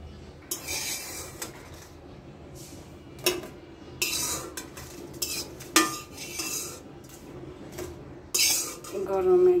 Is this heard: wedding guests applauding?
no